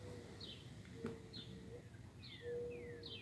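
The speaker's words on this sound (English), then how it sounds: "Is that an owl?" Faint, low owl hoots sound far off outdoors at night, mixed with nearer bird chirps and short descending whistles over soft background hiss.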